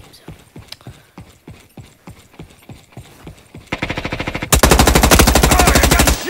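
Gunfire in a Roblox Call of Duty-style shooter game: first a run of single loud shots spaced apart, then a rapid automatic burst that grows into dense, continuous machine-gun fire.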